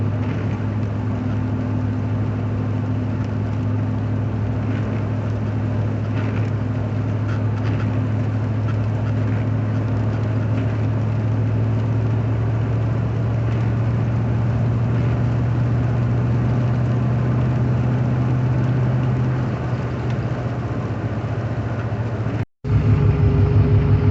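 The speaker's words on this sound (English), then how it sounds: "I'm going to go ahead and bolt this on, give it a short test drive" Car engine running on a test drive after fitting carburetor power valve channel restrictors: a steady droning engine hum with road noise, constant and fairly loud, ending with a brief cut near the end.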